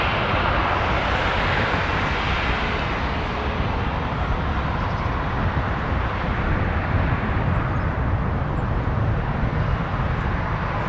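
A passenger jet taking off from runway 23 at Toronto Pearson, heard as a steady, broad roar of engine and rushing air that holds at an even level throughout, with no voices.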